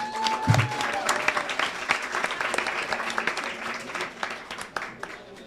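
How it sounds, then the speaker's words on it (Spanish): An audience at a Halloween science event applauds Casa Magola with moderately loud, lively clapping that gradually thins toward the end, with some voices mixed in. "Un aplauso para Casa Magola."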